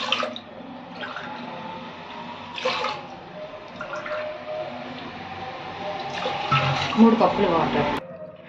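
Water is poured from a cup onto washed toor dal in a cooking pot, a steady close splashing and trickling that swells near the end, with a voice speaking over it.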